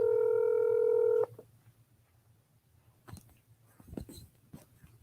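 A phone keypad tone rings steadily on speakerphone for about a second and then cuts off. Soft handling noises and faint rustles follow in a quiet room.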